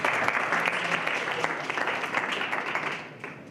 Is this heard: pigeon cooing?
no